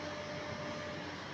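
A DTF Smart direct-to-film printer runs a print head cleaning cycle, giving a short, steady, moderately quiet mechanical whir like a small pump or fan, with no voices.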